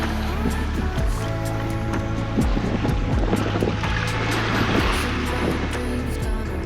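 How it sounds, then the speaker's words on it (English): A steady mechanical drone of a watermaker running aboard a sailboat continues throughout, mixed with broadband wind and water wash, loud and unchanging. "That is the water maker going in the background."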